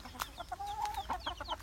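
Hens clucking with chicks peeping among them, a run of short calls and thin high cheeps in quick succession, close by and steady, no voices.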